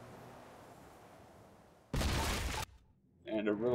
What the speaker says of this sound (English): And a really delayed explosion there.